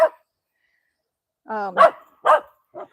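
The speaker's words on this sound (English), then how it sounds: "Oh, he could bark and bark and bark." A small Alaskan dog barks three or four times in quick succession after a brief whine, close by, with a short voice sound at the start.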